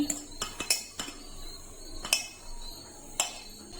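Flour, a pinch of salt and white oil being rubbed together by hand in a bowl, quiet rustling broken by several sharp clinks of a bowl or utensil, close and irregular.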